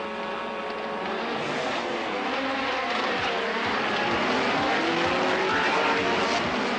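A Nissan Skyline GTR touring race car from 1990 at speed on a circuit, its engine roaring steadily and loudly throughout with a continuous high-revving drone and no voice heard.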